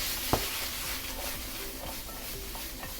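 Onion, carrots, celery, garlic and rosemary are stirred in a hot pan, giving a soft continuous sizzle with scraping strokes and one sharp knock near the start, fairly quiet and with no talking.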